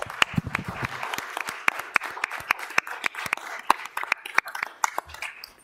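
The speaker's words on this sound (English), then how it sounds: "A round of applause, please." A room of attendees at a Sarpy County, Nebraska board meeting gives a round of applause, scattered sharp claps from a modest group, moderately close, with a brief low murmur early on.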